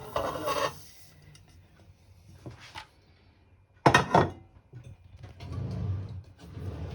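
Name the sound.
stirring oranges and sugar with a wooden spoon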